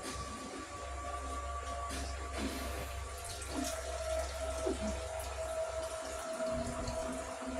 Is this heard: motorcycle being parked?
no